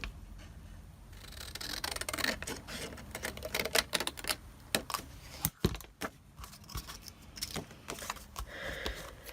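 Scissors snip paper sections out for a junk journal pocket, giving a close run of dry crisp cuts and small clicks with uneven rhythm and no talking.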